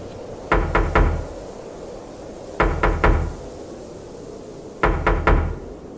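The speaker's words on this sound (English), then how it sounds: "The same 3 knocks from the end of the cassette." Three sharp knocks on a wooden door, repeated three times as evenly spaced groups, loud and close against a faint hiss.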